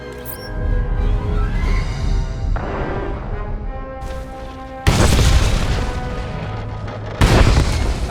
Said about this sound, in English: The charges have detonated.